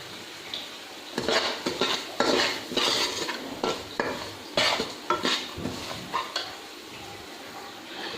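Semolina roasting in a pan over low-medium heat for halwa, stirred with a metal spoon in uneven scraping strokes over a soft, dry sizzle, close and fairly quiet.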